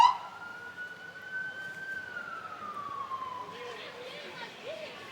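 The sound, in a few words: emergency vehicle siren during Santa parade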